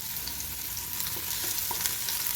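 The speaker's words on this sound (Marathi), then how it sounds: "कांदा छान असा फ्राय करून घ्यायचा" Finely chopped onion sizzles steadily in hot oil in a pan, a continuous close crackle with a few small pops and no voices.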